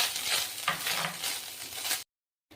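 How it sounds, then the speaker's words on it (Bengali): Grated coconut fries in a pan with a continuous close sizzle and stirring scrapes, then cuts to brief silence near the end. "নারকেল কোড়ানোটা লাল লাল করে ভাজা হয়ে গেল"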